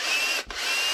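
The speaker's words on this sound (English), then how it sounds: "I don't mind drilling it, so I keep using the same hardware." A power drill whirs at high speed while drilling out screws for a pistol optic mount, cutting out briefly midway before spinning back up, close and loud with no talking.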